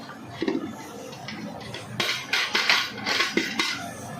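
Potatoes drop into a large pot of boiling water for a pea-potato pulao, making a series of splashy, clattering bursts in the second half over a steady bubbling background.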